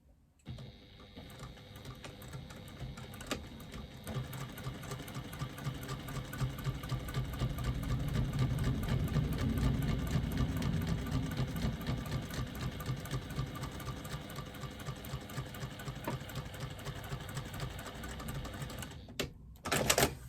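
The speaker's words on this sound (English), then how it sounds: "I'm going to stitch a 1/4 inch seam allowance" A sewing machine stitches a quarter-inch seam through several layers of a wristlet with card slots. The motor whirs in a fast, continuous rattle for about twenty seconds, close and steady, and then stops.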